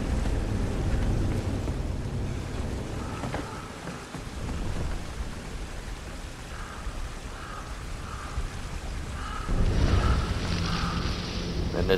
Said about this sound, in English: Of course, the waterfall cascading in behind it.